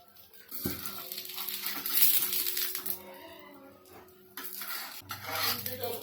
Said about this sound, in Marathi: थोडं तेल टाकायचंय अशा प्रकारे ना दुसरी बाजू पण छान भाजून घ्यायची